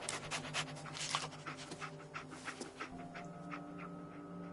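Dogmeat, the dog companion in Fallout 4, pants steadily with quick rhythmic breaths and a faint whimper, close and clear over a low game ambience, with no talking.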